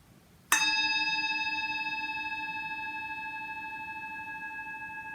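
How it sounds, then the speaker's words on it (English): A single metal gong or singing bowl struck once to close a mindfulness meditation, ringing out clearly with a sharp attack and a long, slowly fading shimmering tone that carries alone in a quiet room. "I'll ring the gong to conclude"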